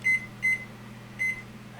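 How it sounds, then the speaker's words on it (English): Three short electronic beeps come from a kitchen oven's timer as it is set for dehydrating pumpkin: two in quick succession, then a third after a pause, clear and close over a low steady hum. "I think I'm going to set my timer for probably about 3 hours"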